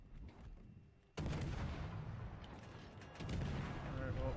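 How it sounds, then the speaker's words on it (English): Heavy battleship gunfire in the naval game World of Warships, with a sudden loud blast at about a second followed by sustained rumbling booms and a second surge near the end. "couple battleship shots"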